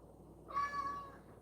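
A pet cat gives a single short meow, faint and close, with a rising-then-falling tone lasting under a second over quiet room noise.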